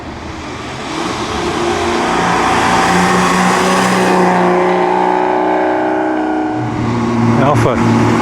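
A Ferrari race car on the 2012 Mille Miglia road rally roars past close by, its engine swelling loud and steady for several seconds, with a brief sharp burst near the end and voices talking underneath.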